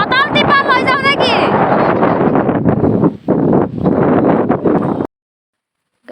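Strong wind buffets the microphone outdoors in a rice field during rainy weather, a loud rushing roar that carries on under a person speaking, then cuts out abruptly near the end.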